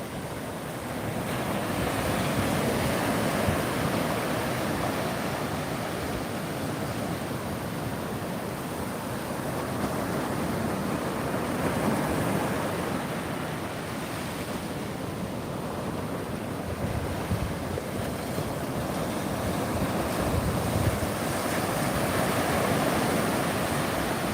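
Ocean waves roll steadily onto a shore, a continuous broadband wash of surf with wind noise buffeting the microphone, loud and close throughout with no voices.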